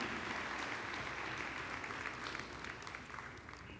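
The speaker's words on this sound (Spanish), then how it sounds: "Dale un aplauso al Señor, iglesia." Church congregation applauds during a sermon, steady dense clapping from a crowd that continues without pause.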